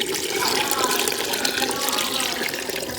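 Water pours steadily into a pot of thick Jaffna odiyal koozh, a continuous splashing rush lasting the whole few seconds, fairly close and loud.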